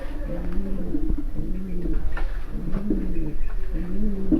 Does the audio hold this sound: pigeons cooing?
yes